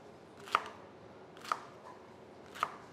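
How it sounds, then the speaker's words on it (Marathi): Okra (bhindi) being chopped with a knife on a board, three separate crisp cuts about a second apart, close and fairly quiet in an otherwise still room. "या भेंड्या छान चिरून घेऊ आपण"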